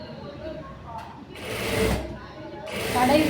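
A sewing machine stitches a blouse front in two whirring bursts, the second longer and louder, with a voice talking quietly in between.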